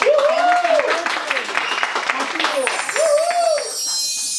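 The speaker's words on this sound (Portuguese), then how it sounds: "Vamos aplaudir isso" Audience applause and cheering for actors at a theatre performance, with voices calling out over the clapping, lively and fairly close.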